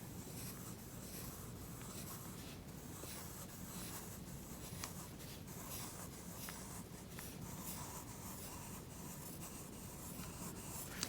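A pen scratches softly across a lined paper card, drawing tiny loops in a continuous back-and-forth rhythm of quick strokes, faint and close, with no voices.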